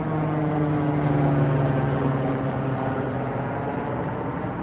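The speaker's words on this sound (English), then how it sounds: "You can hear the helicopter just passed." A helicopter passes overhead near a frontage road, a steady loud rotor and engine drone holding throughout with a low tonal hum, close and with no talking.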